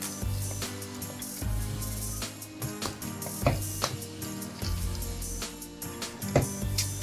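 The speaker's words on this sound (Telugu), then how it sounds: "ఈ స్మాషర్ తోటి ఇది ఇలా మెత్తగా మొత్తం అంతా స్మాష్ చేసుకోవాలి." Cooked pav bhaji vegetables with crushed kasuri methi mashed in a pot with a masher, giving repeated soft thuds and squelches at an uneven pace, close and fairly loud, with no talking.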